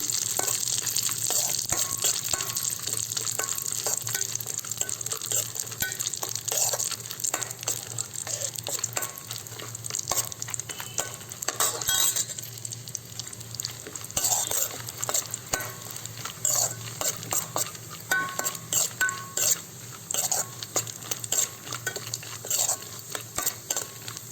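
Vermicelli frying in ghee over a low flame for payasam, heard as a continuous soft sizzle. Frequent scraping and clinking stir strokes run over it, close and steady, without speech.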